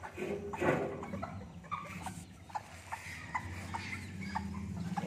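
Newly hatched Serama chicken chicks peeping and chirping in a cluster of small, high calls, fairly faint against a soft background murmur, with a few scattered rustles.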